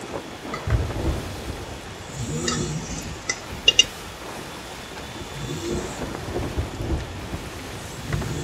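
Thunderstorm at sea in the Sea of Thieves video game, steady rain hiss under low rolling thunder, with a few sharp creaks and clicks rising briefly in the middle.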